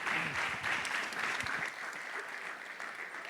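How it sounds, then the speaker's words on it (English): Audience applause at a lecture-hall panel event, a dense steady clatter of many hands clapping that carries on for the whole stretch and eases off only slightly toward the end, with no talk above it. "A round of applause for our panel and Mr."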